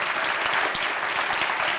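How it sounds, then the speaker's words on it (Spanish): Applause rises from a church congregation, a dense patter of many hands clapping at once, close and steady for the whole stretch with no break. "Damos un aplauso por Juan Marcos en el nombre del Señor."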